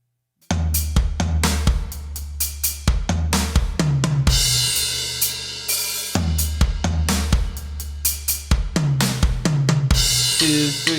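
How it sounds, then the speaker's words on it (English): A drum kit plays a groove with drum fills, kick, snare, toms and hi-hat, loud and close, with repeated tom rolls descending in pitch and continuous hi-hat and cymbal wash over eleven seconds. "next page, drum fill number 8"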